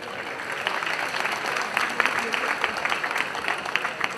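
An audience at an annual fashion awards night claps in a dense, sustained round of applause that fills the room steadily from start to finish, with a faint crowd murmur underneath.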